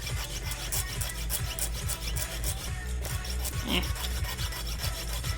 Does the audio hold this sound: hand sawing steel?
yes